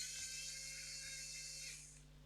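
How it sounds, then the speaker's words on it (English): A Wowstick 1F+ compact electric screwdriver whines steadily at a high pitch while backing out small screws, the motor tone holding for about two seconds before tapering off, quiet and close. "let's see if you can pull out some of these screws"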